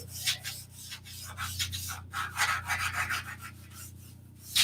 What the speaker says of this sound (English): this is a 180 grit sandpaper.